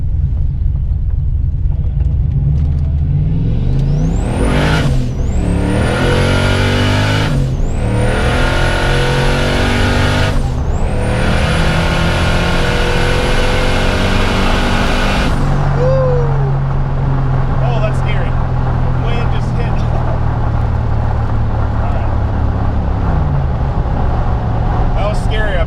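A turbo Fox-body Mustang accelerates hard in first gear, its engine climbing loudly through repeated sharp revving surges before easing off into a lower rumble, with talk heard over the roar.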